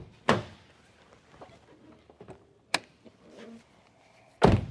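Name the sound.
car gas door being opened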